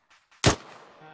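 One sharp gunshot from the video game Arma 3 cracks out after two faint taps and fades into a short reverberant tail.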